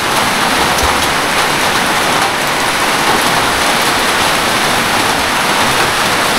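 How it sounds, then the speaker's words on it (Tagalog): Heavy rain pours down in a dense, constant roar, loud and unbroken, with no voices. "Ulan pa siya."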